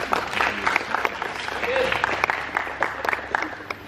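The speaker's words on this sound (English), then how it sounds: "Give him a big round of applause." An audience at a public speaking session applauds the speaker Hazim, with bursts of clapping rising and falling in a busy, moderately loud wash of hands.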